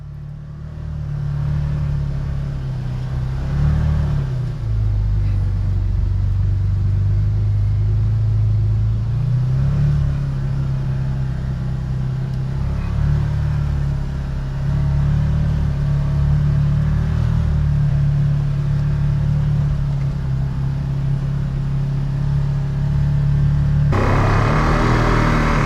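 A Can-Am Defender Limited UTV on 32-inch tires pulls through snow in low gear, its engine a steady, heavy rumble with slight swells in revs, continuous and close.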